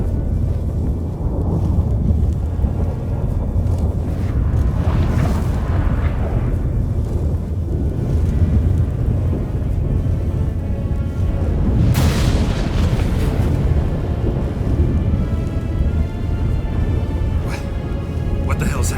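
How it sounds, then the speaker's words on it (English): A thunderstorm in The Witcher 3 video game: loud continuous rumbling wind and rain with booming thunder swells and crackling strikes, dense and close throughout, with voices speaking over it. "That a storm?"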